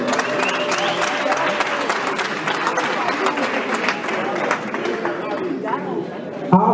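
Boxing crowd applauds two fighters at the end of a bout, loud rolling clapping mixed with cheers and chatter from a packed hall, while an announcer's amplified voice runs over it.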